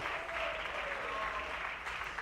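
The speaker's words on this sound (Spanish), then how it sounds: "Ese aplauso para Cristo, hermano." Steady applause from a church congregation during a sermon, continuous and fairly even throughout, mid-distance with no clear speech over it.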